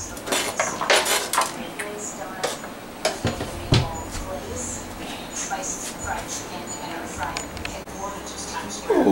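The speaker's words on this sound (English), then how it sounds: "I'm going to put about half of these ingredients, or more than half, on the bottom of the pan" Ingredients for a beer-braised beef chuck roast go into a roasting pan, making loud clinks and clatters of metal and utensils against the pan in uneven bursts, with a voice speaking over the kitchen noise.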